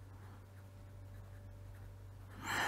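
Writing during a lecture on synchronous machines, faint scratchy strokes over a steady low hum, ending in a brief louder scrape.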